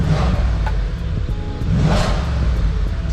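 Audi S5 engine revving before a muffler delete, a steady close engine drone with brief throttle swells, heard alone without talk.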